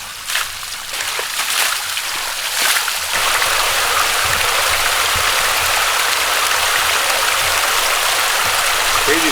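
Water rushes steadily along a small channel once debris blocking it has been cleared, a continuous, close, full wash of flow with a few brief splashes near the start.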